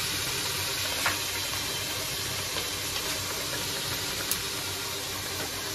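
Spiced curry being sautéed in a pan while Kashmiri red chili powder goes in, a steady faint hiss and sizzle with a few small pops and no talk.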